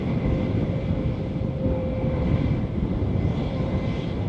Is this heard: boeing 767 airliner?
yes